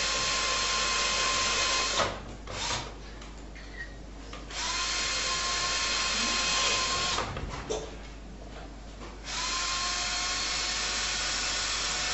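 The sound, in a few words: drilling holes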